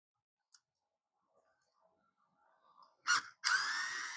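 Electric Phillips screwdriver on a Danner 1200 GPH mag pump: a faint click and soft fiddling, then two short, loud whirring bursts of the driver spinning close by, the second held longer.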